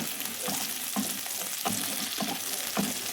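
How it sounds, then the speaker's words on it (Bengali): Chopped onion, capsicum and green chili frying in hot oil in a pan for chilli paneer, a steady close sizzle with periodic stirring scrapes roughly every half second to second. "এবার দিয়ে দেবো টুকরো করে রাখা পেঁয়াজ, ক্যাপসিকাম আর কাঁচা লঙ্কা।"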